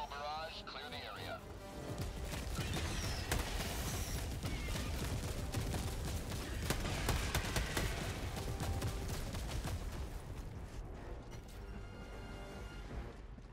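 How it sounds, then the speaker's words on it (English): A World of Warcraft orbital barrage pounds the area with dense, sustained booming and crackling impacts, loud and continuous for several seconds before easing off, with clanking mechanical sounds layered in. "Firing orbital barrage, clear the area."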